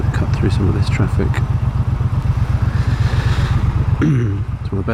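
A 2022 Triumph Bobber motorcycle rides through traffic with a steady, close engine drone and rapid pulsing thrum, followed by a brief throttle change near the end.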